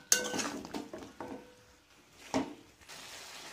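A spatula scrapes and clinks against a pan while chilli chicken is stirred over a medium flame, giving a few quiet irregular metallic knocks and scrapes close by.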